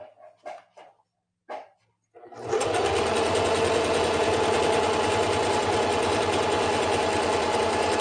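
Sewing machine stitching a regular zigzag, a loud close steady mechanical whirring hum that starts after a few seconds of brief barks from a dog and continues without pause.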